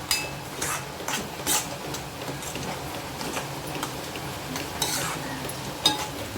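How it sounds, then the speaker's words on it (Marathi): Tomato puree stirred and sautéed in a pan for a soybean curry, with a steady soft sizzle under repeated scraping and clinking strokes of a spoon against the pan, close and fairly quiet. "टॅमॅटोची प्युरी घालून छान आपण मिक्स करून घ्यायचं आहे परत टॅमॅटोची प्युरी पण छान परतून घ्यायचे"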